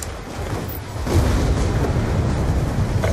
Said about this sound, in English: Friendly EMP systems detonated.